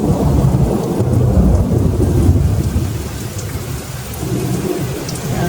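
Thunderstorm with heavy rain pouring steadily and deep thunder rumbling throughout, loud and continuous from start to finish with no voices.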